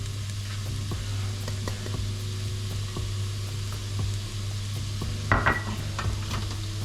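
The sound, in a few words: onions, spices and garlic sizzling in olive oil in a pan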